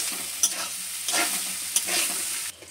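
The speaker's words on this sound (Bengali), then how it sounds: "আবার নেড়ে নিচ্ছি ভালোভাবে।" Leftover rice frying with carrot and capsicum in a pan, stirred with a spatula: a steady sizzle broken by several scraping, clattering strokes, near and fairly loud, with no talk.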